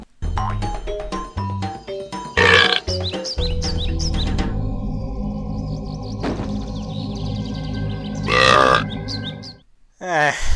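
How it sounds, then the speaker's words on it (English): A baby dragon's cartoonish burp in Spyro: Year of the Dragon rings out amid game music and chirpy sound effects, with a couple of loud bursts over a busy melodic background. "the final cutscene of the trilogy that quite literally ends with one of the baby dragons burping?"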